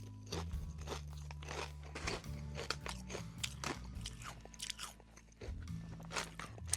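Close, crisp crunching and chewing of Quest protein chips, a rapid irregular series of bites and munches with no talking.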